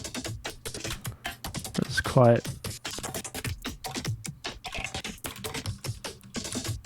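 Computer keyboard keys tapped in a steady run of clicks during Ableton Live sound-design work, close and moderately loud, with someone talking over them throughout.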